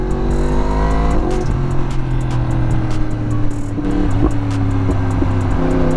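A Yamaha R1M sportbike engine drones loudly and steadily close by on an open road, with sharp exhaust backfire pops and crackles scattered through the run.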